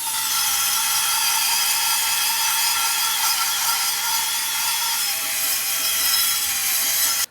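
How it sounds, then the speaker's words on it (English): A power drill with a scrubbing brush attachment grinds steadily against a cast iron pan, a harsh continuous rasping whir that stops abruptly at the end. "I bought this attachment for my drill. And we're going to scrub the pan."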